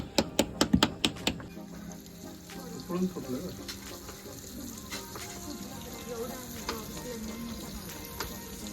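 Mackerel fries on a wood-fired clay stove on a terrace. A quick run of sharp clicks and taps at the start gives way to a soft, steady sizzle and crackle with faint clatter.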